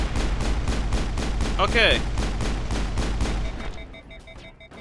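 Combat in the video game Mass Effect: rapid, evenly spaced gunfire bursts pound loudly for several seconds, then fade, with a brief spoken word partway through.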